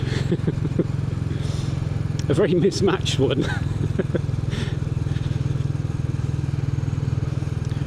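A steady engine drones throughout as a Royal Enfield Bullet 350 motorcycle rides along, while someone talks briefly over it.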